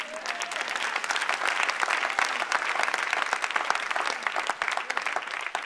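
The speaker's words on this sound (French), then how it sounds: "Si tu acclames, acclame bien." A church congregation claps at a sermon, dense sustained applause filling the room at an even level for several seconds with no talk.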